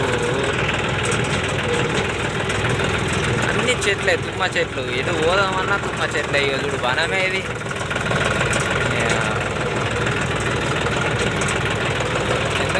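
A 5310 combine harvester's diesel engine runs steadily nearby, its continuous low drone persisting throughout while someone talks over it.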